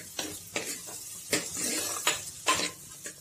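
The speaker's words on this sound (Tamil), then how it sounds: "அடுத்தது நாம் அறுத்து வச்சிருக்கிற ஒரு தக்காளியை போட்டுக்கலாம். அது நல்லா வதங்கட்டும்." Tomato and curry leaves sautéing in a pan for an aloe vera curry, heard as a soft sizzle under repeated scraping and clinking strokes of a spoon against the metal, close and irregular.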